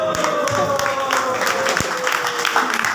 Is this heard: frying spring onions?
no